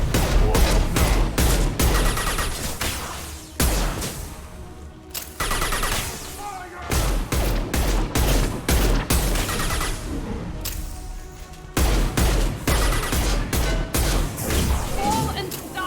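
Rapid, dense gunfire from a squad firefight in the video game Mass Effect 2, with near-continuous loud volleys and bursts that pause only briefly, and voices speaking over the shooting.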